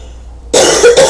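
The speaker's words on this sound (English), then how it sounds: "I still have that same cough, but it's like a allergy cough" An allergy cough, congested and chesty, bursts out suddenly after silence, a loud close-up cough with a second hack right behind it.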